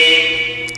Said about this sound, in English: Horn is working.